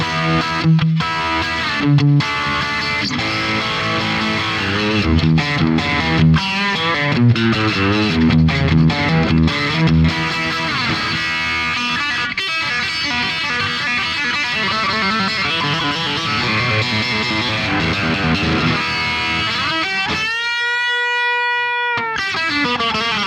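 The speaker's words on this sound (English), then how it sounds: "getting back to the power tube distortion" An electric guitar driven through a Marshall JCM amp into power tube distortion plays a loud, continuous stretch of chords and single notes, ending on a sustained ringing note with no talk.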